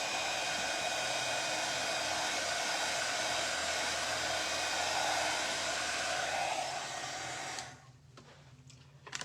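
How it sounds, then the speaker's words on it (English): A handheld heat tool blows hot air over glued decoupage paper on a wooden tea chest, a loud steady whooshing hum that shuts off abruptly near the end and leaves faint handling clicks. "I'm just heating it up so that there's a good bond with the glue"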